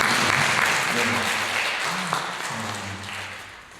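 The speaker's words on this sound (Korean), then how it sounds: "우리 다시 한번 우리 감사한 박수 한번 드리겠습니다." A church congregation applauds during a Sunday worship service, a steady broadband clapping wash that fades slightly over the few seconds, with low voices murmuring and a brief tonal hum underneath.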